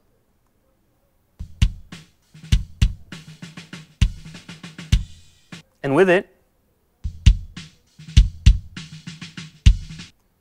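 A lone kick drum thumps in a steady repeating pattern, heard first without EQ and then with EQ, with a short spoken phrase between the two passages.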